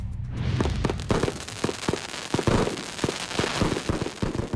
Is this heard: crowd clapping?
no